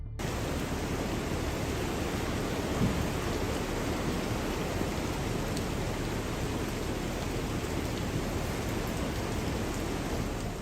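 A California storm brings a dense, unbroken roar of heavy rain that stays loud and constant throughout, with no clear separate thunderclaps.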